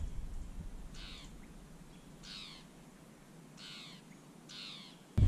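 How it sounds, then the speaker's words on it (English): Bird calling outdoors beside a woodland trail of western red spruce, four short rasping calls spaced about a second apart at moderate distance over quiet background, ending with a brief thump. "You hear that bird?"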